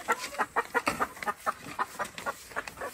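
Several chickens cluck in quick, repeated bursts close by, a busy rhythmic series of short calls with no talking.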